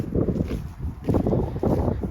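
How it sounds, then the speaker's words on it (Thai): Strong outdoor wind buffets the microphone in low, uneven gusts that swell and ease, rumbling loudly with no one talking. "ลมก็แรงเลย"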